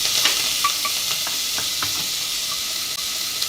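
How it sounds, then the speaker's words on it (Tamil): Chana dal sizzles and hisses in a hot pan with green chillies and curry leaves while a spoon stirs and scrapes, with soft clinks scattered through the steady frying noise. "கடலைப்பருப்பு போட்டு வதக்கிக்கோங்க"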